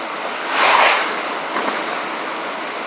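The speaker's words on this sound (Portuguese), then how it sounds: "Esse barulho que vocês estão ouvindo é porque o vidro do carro está aberto" Broadband rushing wind noise from an open car window while driving across a bridge on the Brazil–Paraguay border, a steady roar that swells louder for a moment before settling into a constant hiss.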